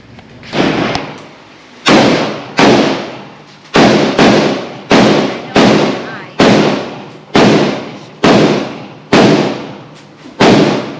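A Hi-Point G1 carbine fires about a dozen loud, sharp gunshots outdoors in a steady rhythm less than a second apart, each crack followed by a short echoing decay.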